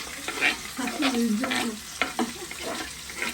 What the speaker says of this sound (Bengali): মজার মজার রান্না করতেছে